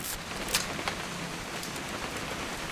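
Steady rain from the What Remains of Edith Finch video game, a soft continuous hiss of falling drops with a few brighter splashes near the start, fairly quiet and with no voices.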